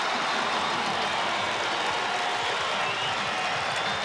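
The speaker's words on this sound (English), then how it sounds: "Jose Canseco, big hand from this crowd." Baseball crowd at the Oakland Athletics' 1990 home opener against the Minnesota Twins applauding Jose Canseco, a broad, steady roar of clapping and cheering from a distant stadium crowd.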